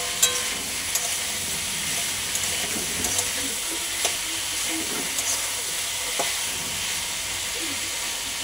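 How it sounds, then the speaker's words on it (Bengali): Turmeric stirred into a generous amount of hot frying oil in a pan gives a steady, dense sizzle and hiss throughout, broken by a few faint scrapes and clicks of stirring. "একটু হলুদ দিয়ে দিলাম, দিয়েই নাড়ব একটুখানি।"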